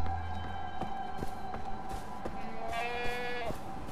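A goat bleats in the video game Far Cry 4, a short wavering cry rising out of steady game ambience and music near the end.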